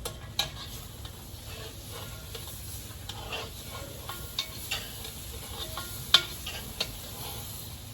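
Stew with flour and lemon zest simmers in a pot while a spoon stirs it, giving a steady low bubbling sizzle with soft scraping clicks and a few sharper knocks against the pot, close and fairly quiet, with no talk.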